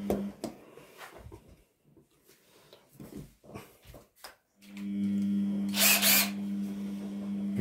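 A cordless drill, readied for mixing gypsum for artificial stone, whirs steadily and close by after scattered handling clatter, with a brief sharper burst of noise partway through its run.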